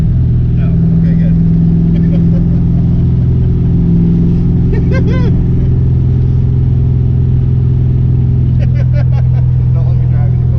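A car engine, just tuned by a friend, drones loudly and steadily at high revs throughout, with people talking over it.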